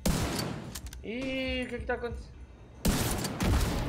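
Gunfire from The Division 2 video game, broadband bursts at the start and again near the end, separated by a short stretch where a voice speaks over lower game sounds.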